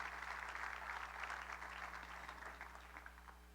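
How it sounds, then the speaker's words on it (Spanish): A church congregation clapping in praise during a worship service, a faint, continuous patter of many hands heard from a distance over a low steady hum, with no voices standing out. "Dale más fuerte ese aplauso al Señor"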